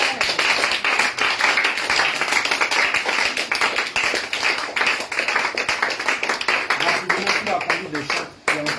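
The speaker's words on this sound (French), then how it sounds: "Est-ce que tu peux acclamer le Seigneur Jésus?" A church congregation at a prayer meeting in Yopougon claps and cheers in acclaim of the Lord Jesus: dense, continuous rhythmic clapping with raised voices mixed in, loud and close, sustained for the whole stretch.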